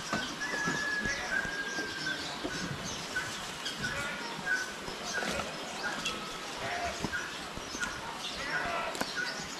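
Parakeets chirp and twitter continuously in a busy, noisy outdoor chorus, with occasional louder calls standing out from the background.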